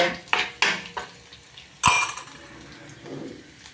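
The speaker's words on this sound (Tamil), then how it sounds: "நல்லா பொன்னிறமாக வர வரைக்கும் இதை லைட்டாக அப்படியே மிக்ஸ் பண்ணிகிட்டே இருக்கலாம்" Urad dal and chana dal roasting in a pan for lemon rice, stirred with a metal spoon: several sharp clanks and scrapes against the pan, with a faint sizzle underneath.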